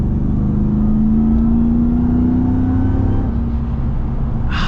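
A 2024 Ram TRX with a Hellcat engine roars loudly and steadily, its pitch climbing gradually as it accelerates, then settling before a brief higher burst at the end.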